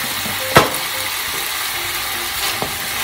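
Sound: sesame oil added to stir-fried bamboo shoots and pork

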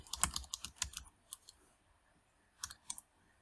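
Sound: typing on a computer keyboard to rename a sheet

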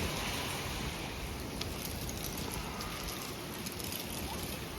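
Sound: strong wind blowing outside at night

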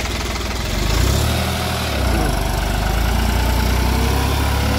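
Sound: New Holland 5620 4x4 tractor engine running with tiller

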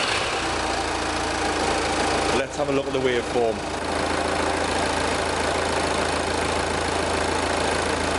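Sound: diesel engine idling

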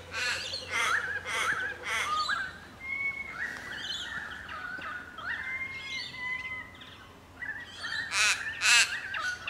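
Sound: bird song in a park

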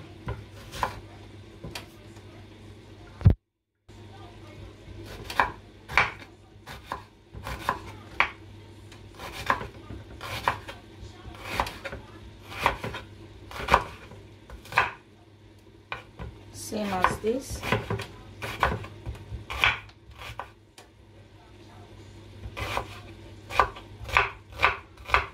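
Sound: chopping tomatoes and meat into smaller pieces

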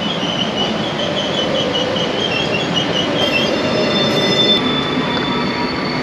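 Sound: train passing

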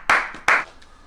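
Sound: applause, clapping

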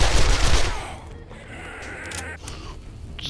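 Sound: gunfire in video game 7 Days to Die

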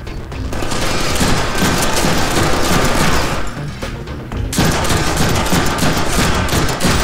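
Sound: gunfire from guns in the Deadpool video game

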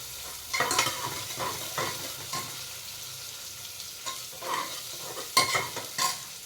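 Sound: frying onion with tomato for pav bhaji

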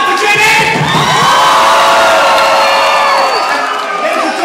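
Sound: concert crowd cheering

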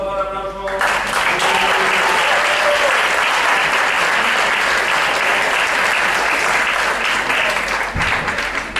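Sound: applause

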